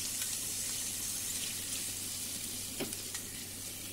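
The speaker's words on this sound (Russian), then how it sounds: "И заливаю этим горячим маслом" Hot blended olive and sunflower oil, in which chili was fried, poured over garlic, giving a close, steady sizzle with a few small crackles.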